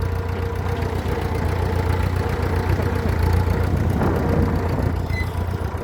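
A petrol tractor engine idles on board, a steady close rumble holding an even throb throughout with no voices over it.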